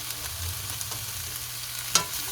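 Bell pepper and onion sizzle steadily in a dry pan with no oil, a soft continuous frying hiss with occasional stirring scrapes and one sharp clink near the end.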